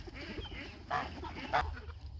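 Young ducklings on a rural homestead give a couple of soft, brief quacks, faint against a low background murmur.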